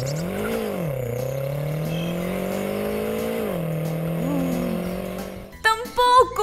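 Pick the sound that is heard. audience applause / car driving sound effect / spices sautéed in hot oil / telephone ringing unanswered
car driving sound effect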